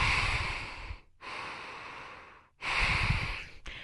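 Deep, audible breaths during a pause in an exercise routine for reducing body swelling, with long airy inhales and exhales separated by short silent gaps, close and fairly loud with no talking.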